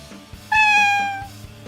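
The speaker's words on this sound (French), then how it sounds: "Oh tiens, salut petit chaton" A kitten in the video game Fly Forever Loving You gives a single clear, drawn-out meow that rises then fades, loud and close over a quiet rhythmic game backdrop.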